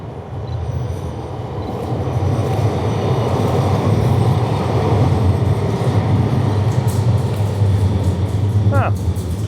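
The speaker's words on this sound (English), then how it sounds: "Okay, comes the tram." A tram rolls past at a street location, its rumble building to a steady loud roar, with a short rising wheel squeal near the end.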